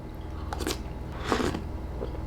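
Chewing a crunchy blended banana drink made with milk, heard as two close bursts of crunchy, wet mastication over a quiet room hum, with no talking.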